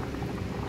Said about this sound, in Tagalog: So ang paglaga ng burger pala guys, kailangan maraming tubig